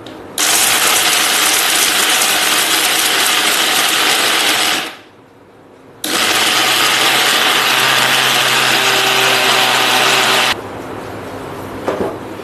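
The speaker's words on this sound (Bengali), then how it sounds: "এই আলমন্ড দিলাম, কাজু, এই এলাচ দিয়ে এগুলো গুঁড়ো করে নিব আগে" An electric mixer grinder pulverizes almonds, cashews and cardamom into powder, whirring loudly in two long bursts separated by a brief pause, then winding down.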